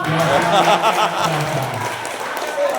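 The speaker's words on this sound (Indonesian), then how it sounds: "tepuk tangan meriah dong." A crowd at a Catholic religious counselor presentation in West Kalimantan applauds, fairly loud clapping mixed with voices and some chuckling, easing slightly toward the end.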